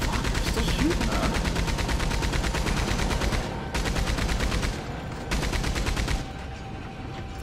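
Rapid continuous gunfire in the video game Red Dead Redemption 2 Online, steady automatic rattling that pauses briefly twice before resuming, loud and close, with a voice faintly underneath.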